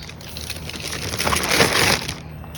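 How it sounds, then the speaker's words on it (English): Steady rain falling outdoors on a filming setup, a broad hissing patter with scattered drops that swells slightly louder toward the middle before easing, no talk. "it starts raining"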